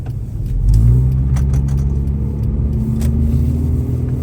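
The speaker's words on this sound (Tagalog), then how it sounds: "Yan sumisigsag yung sasakyan." A car rumbles steadily on a road of slushy, melting snow, its engine droning low and loud close by with faint ticks and hiss from the wet surface and no voices.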